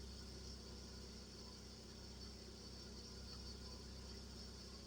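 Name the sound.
car engine idling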